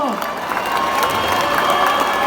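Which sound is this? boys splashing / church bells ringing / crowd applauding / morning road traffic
crowd applauding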